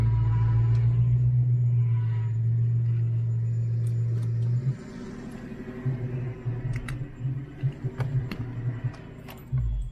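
A Ford Fox body project car idles and pulls away with a deep, loud engine rumble, then drives on with uneven throttle and shifting engine note, heard close from inside or beside the car.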